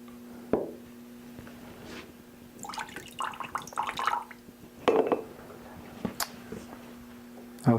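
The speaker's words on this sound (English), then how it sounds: "first I do need to rinse this out with purified water." Purified water is poured and swished while a water testing meter is rinsed out, heard as sporadic splashes and drips, close and fairly quiet, with light handling clinks between them.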